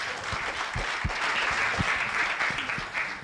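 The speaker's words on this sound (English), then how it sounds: "Another round of applause for our chief guest." Audience at a national coordinating committee meeting applauding the chief guest, a steady patter of clapping hands throughout, moderately close with a faint voice underneath.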